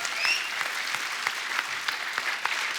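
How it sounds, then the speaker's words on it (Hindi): A studio audience on a comedy talk show breaks into sustained applause, a dense steady wash of many hands clapping at moderate loudness with no talk over it. "और एक बात के लिए और तालियां बनती है,"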